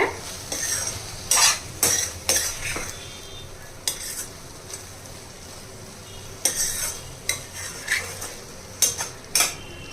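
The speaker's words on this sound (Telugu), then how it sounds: "నిదానంగా ఉడకనివ్వాలన్నమాట ఆయిల్ పైకి తేలి వరకు ఇలాగే ఉంచేయాలి" Ridge gourd curry cooking slowly in sesame oil, with a steady soft sizzle under repeated close scraping and clinking of a spoon stirring against the pan.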